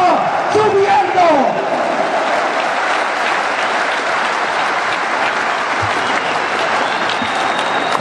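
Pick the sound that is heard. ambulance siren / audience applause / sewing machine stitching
audience applause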